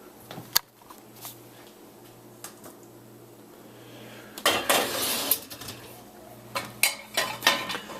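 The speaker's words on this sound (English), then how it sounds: "I'm going to put that pan right there with the handle to the side" A pan slid into a dishwasher rack with its handle turned to the side, giving sharp clinks and rattles of dishes and metal, quiet at first and then a louder burst of clattering near the middle and end.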